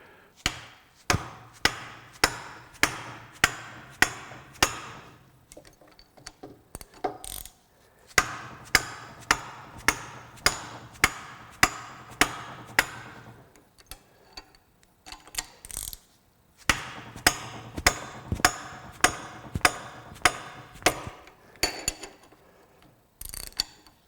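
A ratchet wrench is struck hard over and over in a reckless durability test, giving loud, sharp metallic hits in rapid regular bursts with brief pauses between runs, close and with no talk.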